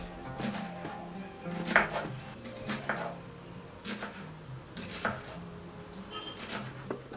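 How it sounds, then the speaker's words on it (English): A knife slicing onion into pieces on a board in a local Ghanaian Ewe kitchen, several irregular sharp chops and taps close by over a quiet background, with no talking. "I'll begin with my onion. I'm going to slice them into pieces."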